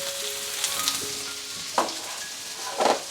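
Onions fry in hot oil in a pan for a devilled octopus dish, giving a steady broadband sizzle with a few louder crackling bursts and soft clinks; no voices.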